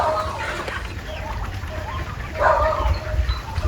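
Chickens on a Philippine poultry farm cluck steadily at close range over a low rumbling background, with a louder burst of clucking near the end.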